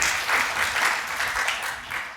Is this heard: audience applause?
yes